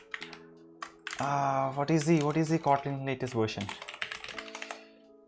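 Rapid clicking keystrokes on a computer keyboard play under a man's speech, with a few spaced clicks alone before he speaks and after he stops.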